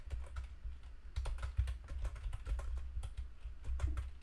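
Computer keyboard typing while Python code is entered, a steady run of quick, close key clicks with uneven rhythm and no speech.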